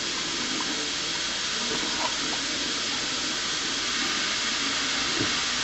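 A Semitool 870S spin rinser dryer runs its purge cycle, giving off a constant loud, broadband hiss of rushing gas with no break or change over several seconds.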